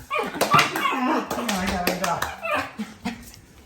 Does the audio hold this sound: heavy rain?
no